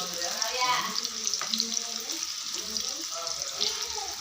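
Bitter gourd pieces fry in oil with a steady, moderate sizzle and hiss while a person talks over it.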